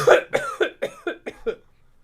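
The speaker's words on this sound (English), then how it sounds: "Cough for 2 minutes." A run of seven or so short coughs in quick, steady succession, close by, each slightly weaker than the last, ending in quiet.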